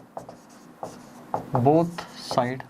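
Marker or chalk writing on a board during a maths lesson, short scratchy strokes under a voice speaking throughout.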